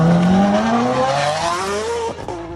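A Ferrari F430 Spider sports car engine drones loudly and continuously, its pitch rising steadily as if accelerating through a gear, with no voices over it.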